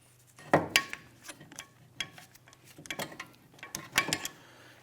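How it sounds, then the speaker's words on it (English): Ratchet clicks from tightening a brake caliper bleeder screw on a 2004-2008 Acura TL rear brake job, heard as several short bursts of close, sharp mechanical ticking with small pauses between them. "go ahead and tighten down that bleeder screw"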